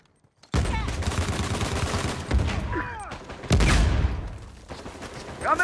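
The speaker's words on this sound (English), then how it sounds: "shoot them before they shoot us" Dense gunfire from the video game Uncharted: The Lost Legacy erupts in sustained loud volleys with sharp bursts and ricochet-like whines, the firing continuing heavily throughout after a brief silent opening.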